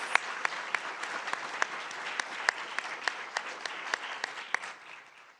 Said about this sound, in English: Can we please all give them a rousing round of applause?